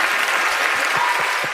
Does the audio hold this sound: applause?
yes